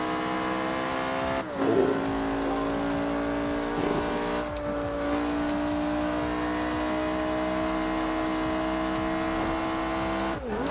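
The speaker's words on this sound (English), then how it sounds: "Let's quickly listen to the engine sounds for a bit." Lamborghini Veneno Batmobile with a rear-mounted engine in the racing game Forza Horizon 2, its engine droning and revving in steady harmonic tones with a few sharp gear-shift dips, loud and continuous with no talking.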